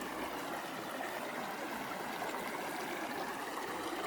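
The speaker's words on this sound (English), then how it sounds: "Now this is the river from the falls" A river flowing from the falls along the Oloolua nature trail gives a steady, even rush of water, soft and continuous throughout with no break.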